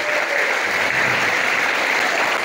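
Students applaud at a school orientation event at a vocational high school, a dense, steady wash of clapping from a large crowd that fills the whole moment without letup.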